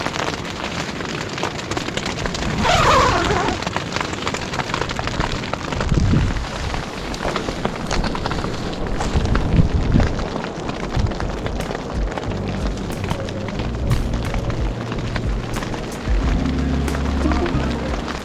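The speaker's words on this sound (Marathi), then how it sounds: "तर जोराच्या गारा पडणं चालू झालं आहे," Heavy hail pelts down in a dense, continuous clatter of hard impacts, mixed with gusty wind rumble throughout, on a Himalayan mountain expedition to Deo Tibba.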